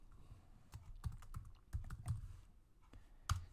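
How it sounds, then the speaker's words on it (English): Someone types a short word on a computer keyboard, giving a quick run of close, crisp key clicks with uneven spacing and a final firmer tap. "So I'm going to type baseball"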